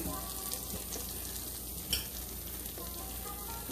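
A grilled cheese and bacon sandwich fries in a pan with a dense, continuous sizzle and one brief louder crackle midway.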